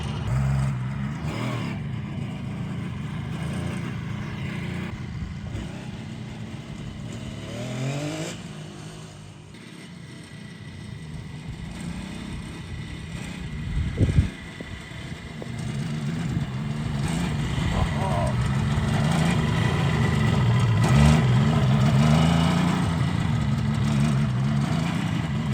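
A 1973 Kawasaki S2A 350 two-stroke motorcycle engine runs close by, idling and revving repeatedly, with the buzzing engine note rising and falling and climbing toward the end.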